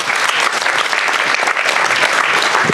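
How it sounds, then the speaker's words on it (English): A cinema audience claps after a screening of the film The 90 Minute War, a loud, close, unbroken wash of many hands applauding evenly throughout. "So that's a round of applause."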